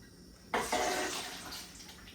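Water pouring into a pot of Concord grapes for juice, a sudden splashing rush that settles into a steady, slowly fading pour.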